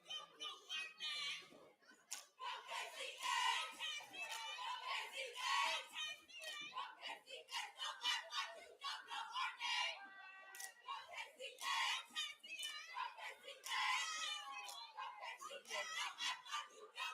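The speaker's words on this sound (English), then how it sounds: "As we hear the Jaguar cheerleaders, cheer squad in the background celebrating." Jaguar cheerleaders and cheer squad cheering at a varsity football game, Grandview against Kipp Columbus: a continuous mass of shouted, chanted youthful voices, loud and crowded throughout, with brief rhythmic bursts of clapping.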